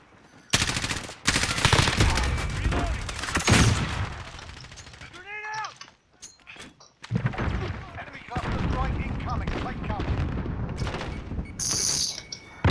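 Sustained automatic gunfire in Call of Duty Modern Warfare team deathmatch, loud close bursts that pause briefly and resume, with a voice speaking over the shooting.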